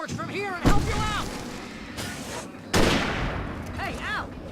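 Gunfire in the horror action game Alan Wake: two sharp, loud shots ring out amid game noise, with a shouting voice and whooping, chirping calls running throughout.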